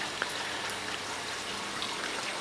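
Garden hose spraying water over newly seeded grass, a soft continuous hiss and patter of droplets, fairly quiet and steady with no talk.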